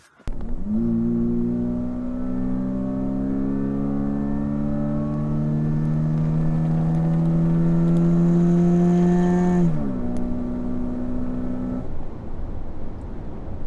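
Toyota Tacoma pickup with a newly installed MAF calibrator accelerating hard, engine revving steadily upward through one long pull, then briefly dropping pitch at a shift before climbing again, loud and close with no talk.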